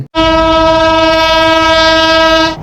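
A loud, sustained horn from the Jahanabad Express blares steadily for a couple of seconds as the train passes close by on the Khulna–Dhaka line, with rumbling underneath.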